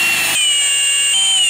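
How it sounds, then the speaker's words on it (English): A power drill bores a hole in a DIY coral feeding shield, loud and close with a high whining motor pitch that shifts as the bit bites and then changes speed partway through. "I plan to drill right here"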